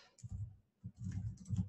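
Quick clicking keystrokes on a computer keyboard, two short bursts of typing separated by a brief pause, close and fairly quiet.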